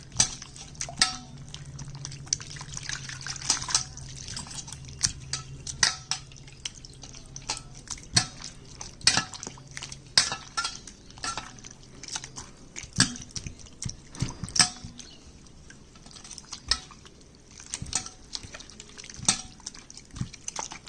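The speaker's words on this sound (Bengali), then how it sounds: "বেশি জল দিয়ে দিচ্ছিলাম, এটা তুলে রাখছিলাম, সেই জলটা দিয়ে আবার ধুয়ে নিচ্ছি" Food is rinsed with water in a pot in a home kitchen: steady splashing and dripping with frequent clinks of metal against the pot, continuous for about twenty seconds, close and fairly loud.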